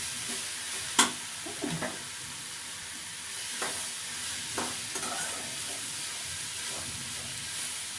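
Ridge gourd curry ingredients are stir-fried in a village kitchen with a soft steady sizzle and a few sharp scrapes and stirring clatters near the start, the pan hiss continuing quietly throughout.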